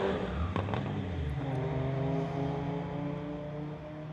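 A 2010 VW Jetta with a 2-liter turbo and a 1995 BMW 318ti drag racing side by side at the eighth mile, engines roaring loud and steady with rising whine, no talk over them.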